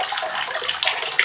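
Water splashes and rushes over a waterproof CCTV camera in a continuous close, hissing pour with small bursts of spatter.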